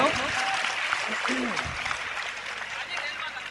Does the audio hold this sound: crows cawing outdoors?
no